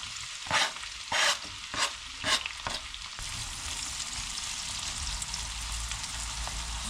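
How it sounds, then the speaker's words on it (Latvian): Onions frying in butter for a chicken rice pilaf, with several loud stirring scrapes at the start, then a steady, close sizzle that continues on its own. "Sīpoliņus bišķi apcepam."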